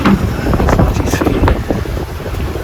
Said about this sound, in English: we've got wind, we've got pretty much 15 knots of wind